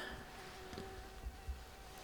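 Outdoors on a fly-fishing trip, a faint, thin mosquito whine hovers quietly over low ambient background, with a few soft bumps and no speech.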